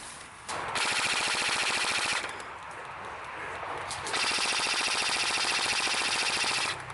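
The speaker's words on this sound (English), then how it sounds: "We keep shooting down both sides of the path and take out a couple hostiles as we advance." Squad of airsoft rifles firing in long rapid bursts during a milsim engagement outdoors, loud continuous rattling volleys with a short lull in the middle before the firing picks up again.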